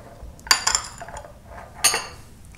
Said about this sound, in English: I'm just going to use my knife and put it all throughout the cucumber